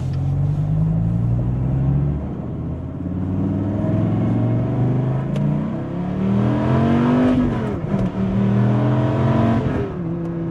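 A 2017 Dodge Viper ACR's V10 engine accelerating hard, heard from inside the car as a loud, deep rumble climbing through rising revs with gear changes between pulls, alone without talk.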